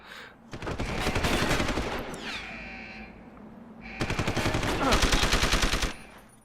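Two bursts of rapid gunfire from Deus Ex: Human Revolution rattle loudly, separated by a short pause with a brief electronic sweep, each volley a fast string of sharp shots.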